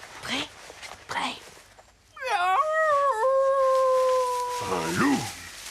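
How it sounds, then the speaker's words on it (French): A cartoon wolf gives a long, wavering howl that rises and then holds steady, with brief animal yelps and vocal sounds before and after it. "Un loup."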